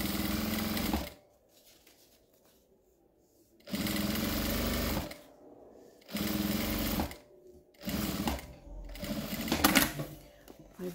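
Sewing machine backstitching along a bag lining in quick stop-start bursts of rapid mechanical whirring, each burst a second or two long with quiet gaps between, while someone talks throughout.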